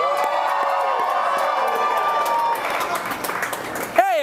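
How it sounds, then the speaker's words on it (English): Studio audience applauding and cheering for a bartender on a comedy drinking show, a dense steady wash of clapping and whoops that runs throughout, with a voice talking over it and a brief louder burst near the end. "I want a round of applause for the bartender to the stars"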